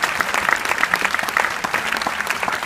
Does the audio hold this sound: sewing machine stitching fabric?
no